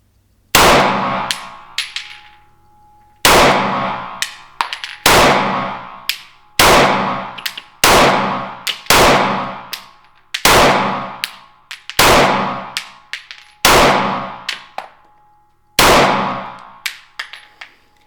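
A Generation 6 Glock pistol fires at a shooting range, about ten loud, sharp cracks spaced a second or two apart. Each shot rings out with a short metallic echo and a brief decaying tail, and no voices are heard.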